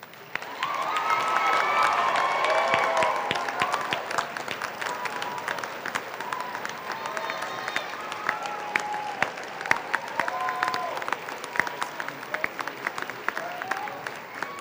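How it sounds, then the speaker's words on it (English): Graduates at a Montana Western commencement ceremony give their faculty a sustained round of applause, swelling early with cheers and whoops, then settling into steady clapping with scattered shouts from the crowd. "give your faculty who have supported you and helped shape your bright futures a big Montana Western round of applause"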